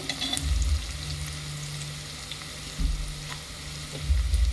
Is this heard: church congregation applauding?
no